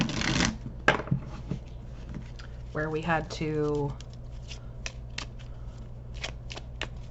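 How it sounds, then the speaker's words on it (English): A deck of tarot oracle cards being shuffled, with quick riffling bursts and a ratcheting riffle cascade in the middle, set against a person talking. "we're going to make sure that they're good and shuffled this time"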